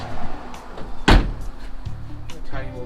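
A Jeep car door shuts once with a single solid thud about a second in, set against a low, steady background murmur.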